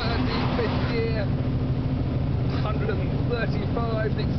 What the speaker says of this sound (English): 280 horsepower from a turbocharged engine thrusting you up the runway